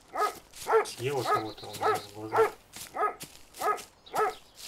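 Dogs bark in the game ArmA 2, a steady series of sharp, evenly spaced barks with a brief whimpering yelp in the middle, a voice speaking faintly underneath.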